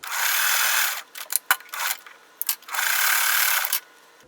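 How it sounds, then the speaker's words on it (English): A sewing machine stitches a fabric quilt flower onto its stem in bursts of fast, whirring needle runs, with short pauses and small clicks between the stitching runs. "I'm going to sew the flower to the stem"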